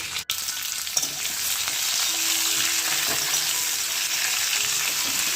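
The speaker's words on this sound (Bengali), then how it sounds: "একটু ভাজা ভাজা হয়ে যাচ্ছে" Continuous crackling sizzle of mango pickle with jaggery frying in a pan, steady and fairly loud after a brief bump at the start.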